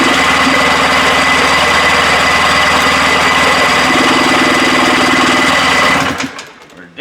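A 1974 Johnson 440 outboard-style engine fires up and runs loudly with a steady rapid rumbling chatter for about six seconds before cutting out abruptly, leaving near silence.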